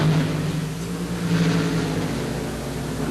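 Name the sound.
drag racing car engine roaring, aluminum Rodak Chevrolet replica engine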